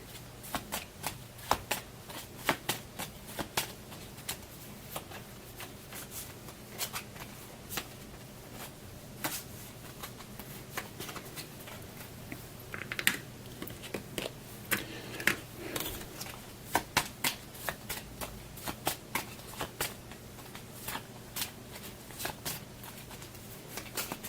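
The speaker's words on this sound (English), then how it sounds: "just going to do the shuffling off camera." Cards for a board game are shuffled over and over nearby, making soft, rapid riffling clicks and slaps in irregular bursts for more than twenty seconds. No one talks over it.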